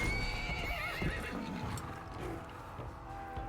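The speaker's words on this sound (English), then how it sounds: "That's a big ass horse." Horse neighing in the video game Assassin's Creed Valhalla, a single whinny rising over a steady bed of game ambience and hoofbeats, fairly close and moderately loud.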